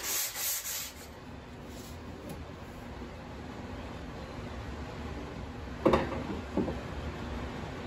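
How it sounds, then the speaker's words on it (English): A steady, faint rubbing hiss of a 180-grit Festool sanding pad worked by hand over wood edges, with a couple of brief louder scuffs near the end. "hand sanding the edges with a 180 grit Festool sanding pad"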